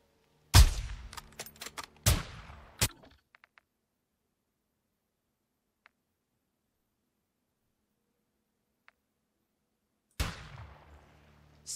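Sharp gunshots ring out in a quick cluster in Call of Duty, then near silence with a couple of faint clicks, before another loud shot and its echoing tail.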